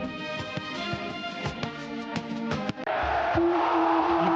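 A sports crowd roaring and chanting as a star player steps up, with loud rhythmic claps and bangs, then a swelling sustained cheer toward the end.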